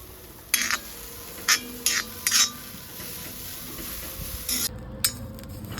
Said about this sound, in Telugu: చూడండి రొయ్య పొట్టు బాగా ఫ్రై అయింది.